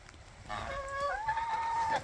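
A farm bird, goose or turkey, gives one drawn-out, wavering honking call lasting about a second and a half, fairly close and clear over quiet rural background.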